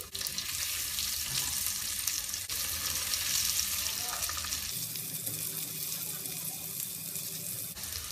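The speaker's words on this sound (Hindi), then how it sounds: "15 सेकंड के बाद हम इसमें आलू डाल देंगे। थोड़ा सा मैं इसे फ्राई कर लूंगी।" Spices, kalonji and potatoes frying in a pan for aloo choley chaat, a continuous close sizzle with stirring scrapes and a clatter, the hiss easing somewhat in the second half.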